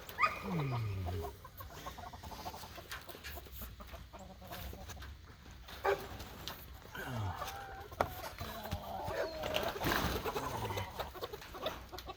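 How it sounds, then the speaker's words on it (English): A rooster clucks and squawks close by in scattered bursts while on a person's back, with other fowl noises and the person speaking intermittently. "Belly, this rooster is on my back, Belly."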